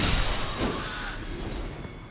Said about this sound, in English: Are those birds?